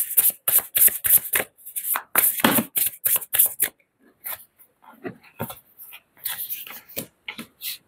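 A deck of oracle cards is handled and shuffled up close: a rapid series of crisp riffling and slapping bursts, then softer, sparser card handling and taps, with no voice over it.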